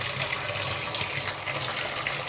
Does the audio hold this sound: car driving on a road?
no